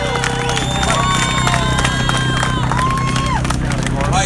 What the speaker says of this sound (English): Please give a round of applause for all of you people